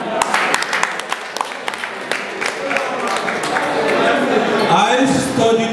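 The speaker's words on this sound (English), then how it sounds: "Let's cheer for this young man." An audience at a live concert in Yaounde claps and cheers, with scattered claps at first swelling into a fuller roar of cheering and crowd voices.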